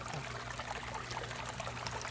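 Water pouring steadily through a gold sluice during prospecting, a continuous rushing trickle heard close and alone.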